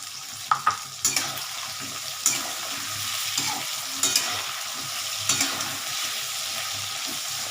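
Slit green chilies fry in hot oil in a pan, with a continuous close sizzle broken by clinking, scraping stirs.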